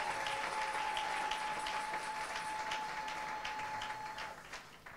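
A church congregation applauds the pastor couple at a sixth-anniversary Goshen celebration closing service, fairly faint continuous clapping with a steady tone beneath it, fading slightly at the end.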